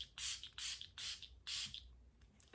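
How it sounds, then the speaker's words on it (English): Milk Makeup Hydro Grip Set and Refresh Spray is misted in four short hissing bursts, close and crisp, with a fainter fifth puff at the very end and no talking. "I'm gonna go in with my Milk Makeup Hydro Grip Set and Refresh Spray"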